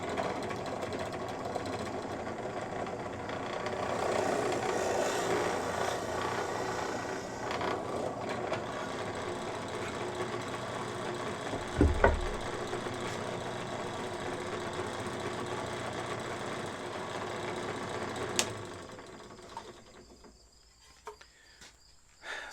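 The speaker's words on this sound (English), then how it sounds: "So I need to drill a hole for this, and I'm going to do that on the drill press." A drill press boring a hole in a mounting piece for a ceiling-mounted camera boom arm: a continuous droning motor whir under long sustained cutting, with a thump midway, a sharp click near the end, then winding down to near quiet.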